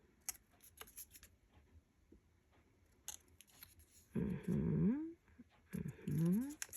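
Scissors snipping fabric at close range for a craft project, with scattered small cuts and rustling followed by a few longer slicing strokes near the end.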